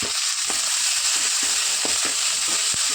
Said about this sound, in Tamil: எல்லாத்தையும் சேர்த்து நல்லா வதக்கிடுறேன்.